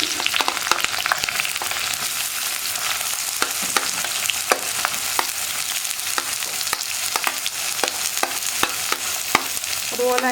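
Sliced onion sizzles in oil with ginger and garlic for a potato tomato curry, a loud steady fry broken by frequent crisp pops and crackles throughout.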